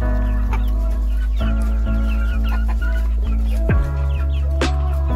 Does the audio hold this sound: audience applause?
no